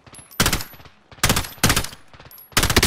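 Loud bursts of automatic gunfire from a first-person shooter video game, with three or four short rapid volleys separated by brief pauses, close and punchy.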